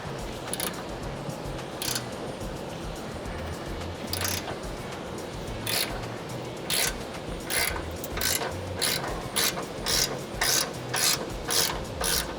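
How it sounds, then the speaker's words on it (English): Long ratcheting wrench with a 24mm socket working loose the cam bolts on a 2024 Toyota Tacoma SR5 suspension, steady close clicking that grows into faster repeated strokes, no talk. "So you want to use a 24mm. Ratcheting wrench is probably the easiest route to go if you have a long one"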